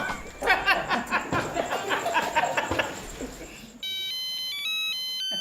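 Chatter and chuckling give way to an electronic phone ringtone, a melodic beeping pattern that plays loudly on its own for the last seconds.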